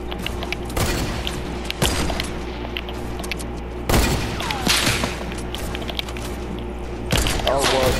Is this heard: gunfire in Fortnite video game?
yes